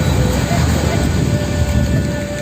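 Strong waves crash on a beach at a holiday village in Armutlu, Yalova, in November, a loud continuous broadband roar of surf and wind with no break and no voices.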